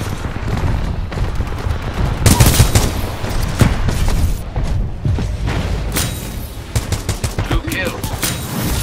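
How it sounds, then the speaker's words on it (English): Splitter rifle gunfire in Titanfall 2 multiplayer, rapid bursts of loud close shots over dense in-game explosions and action noise, with a voice announcing game events. "Splitter rifle armed."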